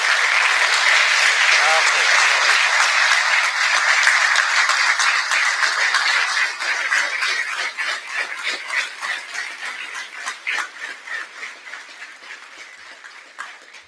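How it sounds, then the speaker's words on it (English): Crowd at a fire academy Class 178 graduation applauds the academy director, a loud, full burst of clapping that gradually thins into scattered individual claps near the end. "Please give him a round of applause."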